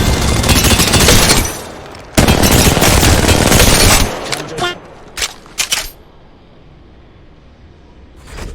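Heavy automatic gunfire in a first-person shooter game, loud sustained bursts broken by a short reload pause, then a few isolated shots and quieter game ambience with a voice talking over it.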